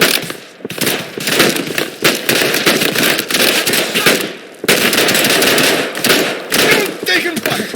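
Dense, loud automatic gunfire in the video game Operation: Harsh Doorstop rattles almost without pause in overlapping rapid bursts. Shouting voices sit under the shooting.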